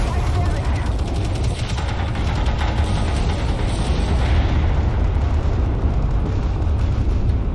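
A tank battle video game under fire fills the clip with dense, loud, continuous rumbling of shots and explosions that never lets up.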